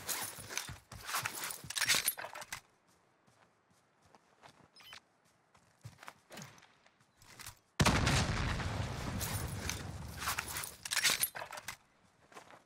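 Gunfire in Call of Duty Warzone arrives as scattered sharp shots and footsteps at first, then a loud sustained burst of close automatic fire with clattering noise in the later half, and no voices.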